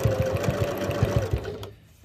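A sewing machine runs a short burst of stitching along a 1 centimeter seam on a zippered pouch, a rapid, even mechanical chatter close by that cuts off abruptly near the end.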